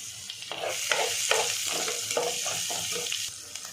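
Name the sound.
ginger garlic paste and green chilies sizzling in hot oil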